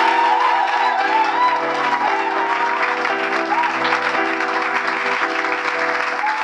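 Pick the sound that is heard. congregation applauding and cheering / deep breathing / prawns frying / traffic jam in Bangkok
congregation applauding and cheering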